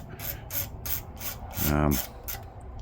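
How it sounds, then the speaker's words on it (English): Rhythmic rasping strokes of sandpaper rubbing over a guide-coated plastic model car body panel, about eight even back-and-forth passes, close and steady, with a brief low hum midway. "You sand until all the guide coat goes away"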